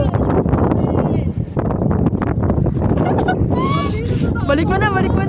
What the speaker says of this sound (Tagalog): Medyo nakakatakot kasi malakas yung hangin at naambon.